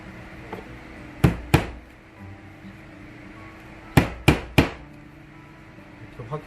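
Hammer blows drive nails into a small wooden toolbox: five sharp, close strikes in two clusters, a pair followed after a pause by three quick ones, over a faint room hum.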